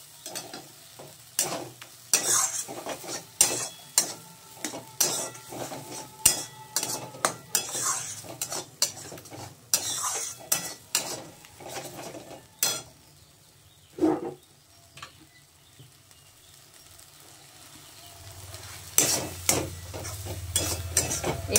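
Bombay duck (lote fish) frying in a pan while being stirred: repeated sharp scrapes and clinks of a utensil against the pan over a steady sizzle, with a short quieter stretch before the sizzling swells again.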